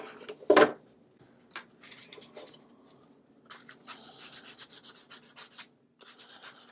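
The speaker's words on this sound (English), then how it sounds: "just grab a piece of light sandpaper and not break like the measuring edges or anything, but just these edges where I'm actually going to be touching it" Light sandpaper rubbing the edges of a Harbor Freight digital caliper, heard as a faint, intermittent rasping with soft scratchy strokes in a quiet room, alone without talk.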